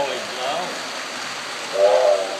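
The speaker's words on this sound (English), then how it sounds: "Oh, the whistle's blowing." A steam train whistle sounds twice, a short faint toot followed by a slightly louder one, over a constant background hiss.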